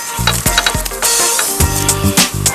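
Fried vegetarian meat is tipped into a pan of sizzling rendang spices, with scraping, clattering stirring strokes over a steady fry, close and fairly loud.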